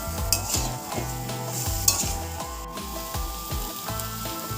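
Spices stir-fried in a pan for a pointed gourd dish, with a close, loud sizzle broken by repeated rhythmic scraping strokes of a spatula against the pan.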